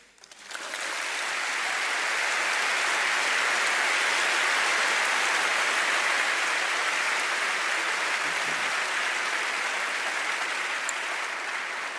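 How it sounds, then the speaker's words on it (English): Sustained, dense audience applause following a speech at a festival of ideas, a steady wash of many clapping hands that swells in quickly and holds loud and even for the whole stretch, with no talking over it. "Ladies and gentlemen, save your applause"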